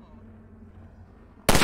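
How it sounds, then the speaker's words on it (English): A single loud rifle shot from Half-Life 2 Episode 1, aimed at a ladder latch, bursts suddenly after a quiet low hum, a sharp close crack with a short decaying tail. "Let me shoot out the latch."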